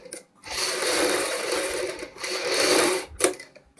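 A sewing machine runs stitching a collar strip on a Punjabi suit neckline, two loud sustained bursts with a short pause between, ending in a sharp clack and brief rattle.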